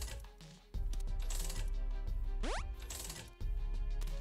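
Coin pickup chime in The Binding of Isaac, a single bright rising jingle midway through, set over steady game music with soft effects.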